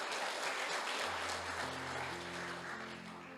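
A church congregation applauds to praise God, sustained clapping from many hands filling the room at steady loudness. Organ or keyboard chords swell in beneath the clapping partway through.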